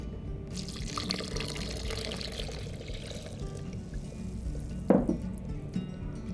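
Water is poured into a blender holding cashews, nutritional yeast, roasted red peppers and cornstarch for a plant-based mac and cheese sauce, a soft, steady trickle ending in a brief louder splash.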